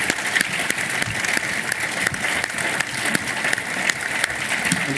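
An audience at an economics book event claps warmly, a thick, continuous wash of many hands holding a steady level throughout, close and full.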